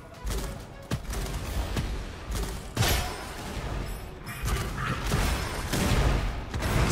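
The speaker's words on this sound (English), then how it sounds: "So many explosions." Explosions and gunfire from the shooter game Gunfire Reborn, with repeated heavy booms and bursts of rapid fire layered over a dense, continuous battle din, loud throughout.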